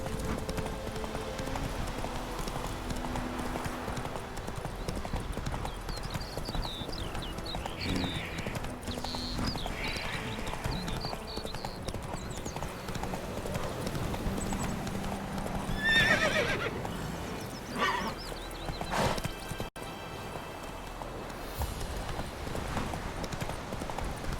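Roach, a horse in The Witcher 3, gallops with a steady clip-clop of hooves and whinnies now and then, amid game music and effects, with brief voices in the mix.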